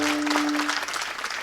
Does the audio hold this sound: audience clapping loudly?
yes